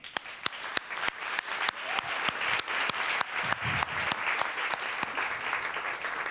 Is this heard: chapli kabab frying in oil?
no